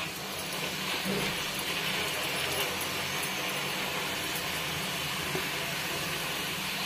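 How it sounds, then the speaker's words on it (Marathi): Shev dough pressed through a fine mould into hot oil, frying with a steady dense hiss and crackle that stays loud and close throughout. "तेल गरम झाले आहे, ह्याच्यात हे शेवचं टाकून घेऊया"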